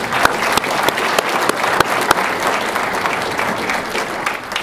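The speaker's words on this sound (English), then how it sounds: "Give them a round of applause again." A round of applause for the Unity Banner Singers, a high school choir, at a Rotary Veterans Day event: loud, sustained clapping from a nearby audience with a few sharp individual claps standing out.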